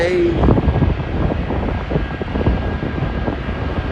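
A DHL Boeing 767 takes off at Schiphol, its engines a loud, broad rumbling roar heard from a distance, buffeted by wind on the microphone, with no talk over it.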